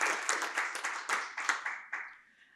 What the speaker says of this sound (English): Please do give a round of applause to him